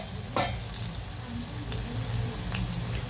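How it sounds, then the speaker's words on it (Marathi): Onion pakoda fritters sizzle in hot oil with a continuous soft crackle and scattered pops, a sharp splash or clack near the start, then steady moderate bubbling. "अशा प्रकारे आपले भजे तळतात छान असे."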